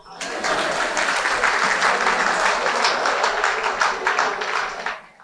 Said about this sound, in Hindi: ताली तुम लोग बजाओ।